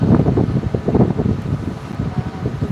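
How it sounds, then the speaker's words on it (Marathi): An outdoor breeze buffets the microphone with steady low rumbling wind noise, continuous and fairly loud, with no voices. "किती छान वारा येते ना"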